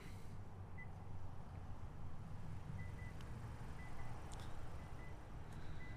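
A series of four short, faint electronic warning beeps from a 2022 Kia Carnival power liftgate closing sounds at even intervals over a low, steady background rumble.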